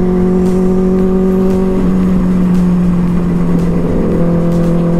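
A motorbike on a city ride speeding up and shifting into higher gears, a loud steady engine drone whose pitch holds, then drops and climbs again as the gear changes, with wind noise throughout.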